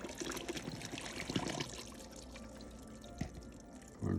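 Water poured into a container while brewing homemade alcohol with corn sugar, a continuous splashing trickle at close range with small clunks near the end.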